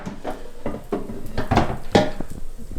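Butterfly shrimp in butter and garlic are lifted out of an air fryer basket: a series of close clattering knocks and scrapes of metal and utensils, irregular and separate, with no talking.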